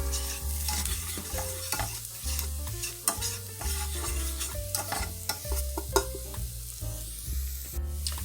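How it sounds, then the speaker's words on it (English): Flour is whisked into a pan of browned beef and shell pasta, a close, busy sizzle with rapid repeated scraping and clinking of the whisk against the pan, no talking over it. "Now you want to add in your 2 tablespoons of flour, and we're going to just whisk that together until it's brown."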